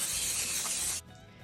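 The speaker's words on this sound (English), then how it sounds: "And then you're gonna spray it with cooking spray." Cooking spray hisses in one steady, close burst onto a silicone donut mold for about a second, then cuts off sharply.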